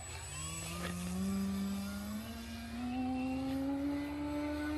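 An old-school Lazy Bee RC model airplane flies overhead, its small engine droning steadily and rising gradually in pitch as it passes, with no talking.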